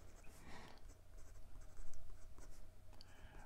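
A Parker fountain pen with a hooded nib glides across paper, giving soft, continuous scratchy strokes close up and fairly quiet, with small pauses between movements.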